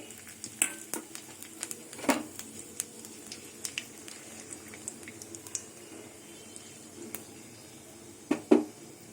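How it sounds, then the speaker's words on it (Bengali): Cumin, panch phoron, dried red chilli and bay leaf tempering in hot oil in a pan, with faint crackling and spluttering punctuated by sharp metal knocks of a utensil against the pan. "এই তেলের মধ্যে আমি ফোড়ন দিয়ে দেবো আর তেল দেব না এখানে জিরে"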